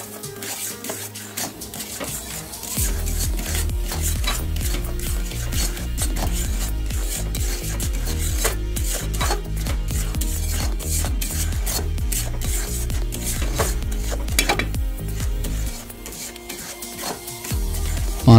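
Green pea paste is stirred and fried over a medium gas flame in a kadai for a Bengali vegetarian matar dish, giving a steady, close scraping and rasping that runs almost without a break, with no voices.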